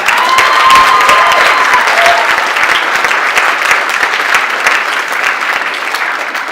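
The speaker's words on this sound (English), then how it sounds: "Another round of applause." A loud, sustained round of audience applause at a slam poetry performance, with dense clapping, a few whistles and faint cheers, close and continuous, slowly tapering toward the end.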